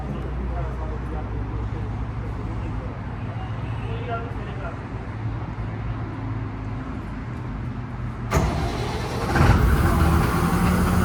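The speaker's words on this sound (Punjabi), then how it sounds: "ਆਵਾਜ਼ ਦੇਖਿਓ ਇੰਜਨ ਦੀ ਕਿੰਨੀ ਸੋਹਣੀ ਆ" A large combine harvester engine idles steadily with a low rumble. Near the end it surges louder, as if revving up, and the noise turns harsher.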